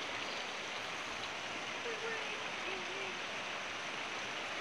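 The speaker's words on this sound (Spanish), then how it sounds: "Esta agüita viene de allá arriba, bueno, viene de un cerro." Water flowing steadily down from a hill in a stream, a constant rushing wash heard nearby without interruption.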